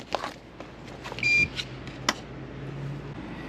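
Electro-Volt Level 2 electric vehicle charger sounding a single short, fairly faint beep while connecting to a plugged-in car, over a low background hum with no talking.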